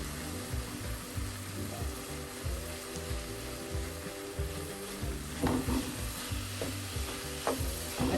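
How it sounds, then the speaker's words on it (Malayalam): Coriander powder, chilli powder and spices being stirred in hot oil for a home-style chicken curry, giving a steady low sizzle with scraping spoon strokes that grow more distinct toward the end, with no talking. "പച്ചമണം മാറുന്നവരെ നമുക്കൊന്ന് മിക്സ് ചെയ്യാം."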